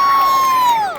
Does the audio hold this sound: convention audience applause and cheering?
yes